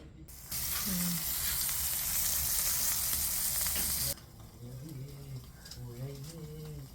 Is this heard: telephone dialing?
no